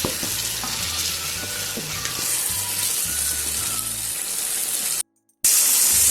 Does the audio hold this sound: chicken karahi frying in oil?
yes